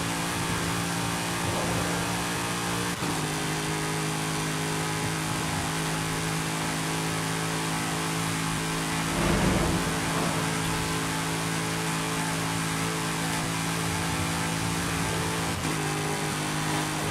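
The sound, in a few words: car engine accelerating in Forza Horizon 5 video game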